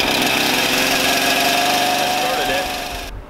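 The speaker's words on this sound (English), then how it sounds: "I let it remain in the high idle position for approximately 5 to 10 seconds for the saw to warm up." Chainsaw engine running at high idle just after starting, a loud, close, steady buzzing drone that cuts off abruptly near the end.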